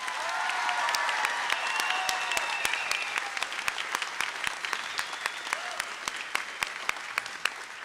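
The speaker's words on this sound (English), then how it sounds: "if you would give them a great big round of applause" Audience applause at the 2024 Braxton County High School graduation ceremony, honoring students in CTE programs: a sustained, dense wash of clapping from a large crowd filling a hall, with sharper individual claps standing out as it slowly thins.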